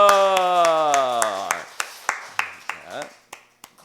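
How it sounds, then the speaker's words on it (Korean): A church congregation at a Sunday sermon claps together once more, a short voiced cue followed by about eight sharp, regular claps that thin out toward the end. "한 번 더 박수!"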